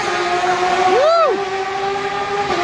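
A Porsche race car at the Sebring 12 Hours endurance race roars past once, its engine pitch rising and then dropping as it passes, loud against steady background crowd and track noise.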